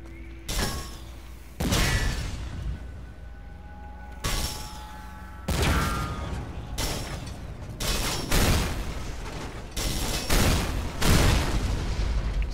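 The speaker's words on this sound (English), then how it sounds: "So many explosions." A series of heavy booming explosions in the video game Hard Reset goes off one after another at irregular intervals, each a loud burst followed by a rumbling decay.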